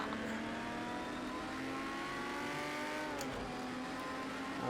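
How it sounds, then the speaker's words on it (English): A Ford GT40 Mark IV race car brakes into a corner in the racing game Project CARS 2 at Le Mans 1971. The engine drones steadily with slight pitch shifts as it slows, continuous and moderately loud, with no talk. "Mark IV GT40 diving down the inside on the brakes."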